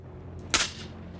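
A single gunshot in the video game S.T.A.L.K.E.R. Shadow of Chernobyl, one short sharp burst that cuts through a steady low ambient hum and fades quickly.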